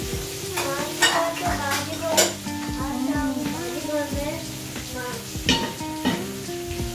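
Vegetables sizzle steadily in a pan while a utensil scrapes and knocks against it in repeated stirring strokes, with some faint voices in the background.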